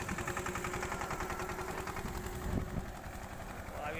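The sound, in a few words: Massey 5118 tractor engine ploughing a field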